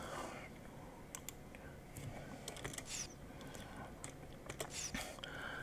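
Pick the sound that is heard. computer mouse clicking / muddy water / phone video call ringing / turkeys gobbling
computer mouse clicking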